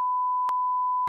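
A loud, steady censor beep tone sounds alone, with a brief break midway and a burst of noise at the very end.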